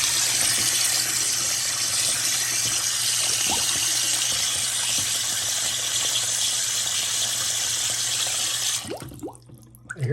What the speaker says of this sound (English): I hear some bubbles.